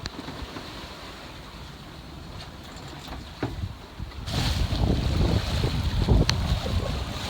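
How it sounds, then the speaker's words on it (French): Wind buffets the microphone while sea waves slosh and break around a moving sailboat off Samos, growing louder and rougher in the second half. "Il y a des jolies vagues aujourd'hui."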